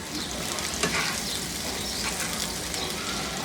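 Pointed gourd fries with green and red chilies in hot oil, a loud dense continuous sizzle and crackle close up, with faint stirring movement and no speech.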